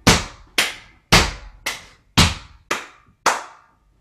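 Seven sharp hand claps ring out alone in a tap dance class, evenly spaced at a steady beat, each loud and close with a quick decay.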